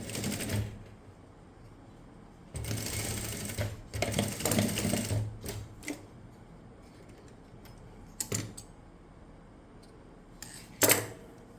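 A sewing machine stitches elastic onto a garment neckline in short bursts of rapid whirring, stopping and starting several times with quiet pauses between runs, close and clear.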